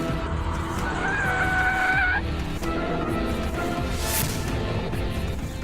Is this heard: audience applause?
no